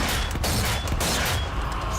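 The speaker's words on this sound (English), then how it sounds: "Oh, that's a shock grenade, my bad." Shock grenade going off in the video game Zombie Army 4, a harsh, dense blast of crackling noise filling the whole moment, with sharp bursts and clatter layered over a loud sustained roar.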